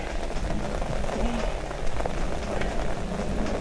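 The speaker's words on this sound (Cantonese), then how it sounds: "好大雨啦，仲有啲雷聲啦" Heavy rain pours steadily at a hilltop fort lookout, a dense, close hiss of drops on surfaces with no break, while a voice is faintly heard beneath it.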